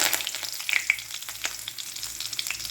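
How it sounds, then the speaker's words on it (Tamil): Cumin, cinnamon, cloves, cardamom and bay leaf crackle and sizzle in hot oil as they temper. The frying is close and steady, with sharp pops scattered through it and no talking. "கொஞ்சமாக சீரகம், 2 பட்டை, 2 லவங்கம், 2 ஏலக்காய், 2 பே லீஃப் எடுத்திருக்கேன். இதை தாளிச்சிடலாம்."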